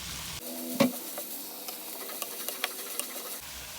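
Onions frying with curry leaves and salt in a pan for a home-made crab curry, a soft continuous sizzle with one sharp clink of a spoon early on and a few light scrapes as the mixture is stirred.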